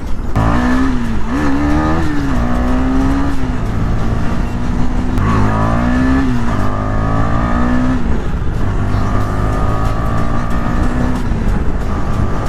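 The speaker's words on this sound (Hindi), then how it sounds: "इतने दिन बाद बाइक हाथ मिली मेरे को, एकदम चला भी प्यार से रहा हूँ मैं" A KTM Duke 250 motorcycle engine revs and pulls steadily as it is ridden, loud and close throughout, with rising and falling pitch sweeps as the rider shifts through gears and no talking.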